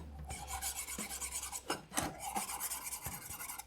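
A brand-new metal file rasps across a workpiece in a test, harsh scraping strokes repeating several times in close succession, up close with no voices.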